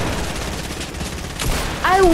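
Gunfire and sniper shots in the video game Fortnite, a dense crackle of rapid fire running through the whole stretch, loud and close, swelling near the end where a whistling tone rises over it.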